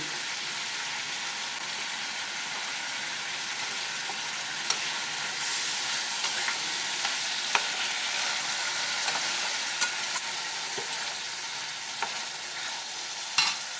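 Fried potatoes and spice paste with ginger stir-fried in a pan for a Bengali tangra fish curry: a steady, loud sizzle with intermittent scraping and clinking of the spatula, and no talking.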